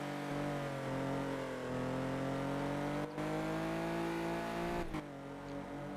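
A rally car engine in the racing game Need For Speed Porsche Unleashed drones at sustained high revs, its pitch rising and dipping slightly as the throttle is held, with two brief dropouts, steady and alone.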